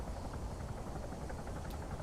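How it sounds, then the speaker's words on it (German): A helicopter in the video game Arma 3 on the Chernarus map, a quiet, distant rotor chop pulsing faintly beneath a flat wash of noise, with no voices. "Ich höre schon wieder einen Heli."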